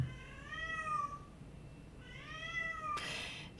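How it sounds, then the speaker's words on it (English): A house cat indoors meows twice, two drawn-out mid-pitched calls about a second apart, fairly close, with a brief rustle at the end and no talk. "I don't know if you guys can hear the cat. She's meowing away."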